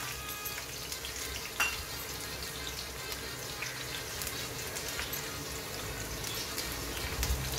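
Crushed garlic dropped into hot oil sizzles and fries steadily, a close, continuous crackling hiss with a few sharper pops, no talking over it.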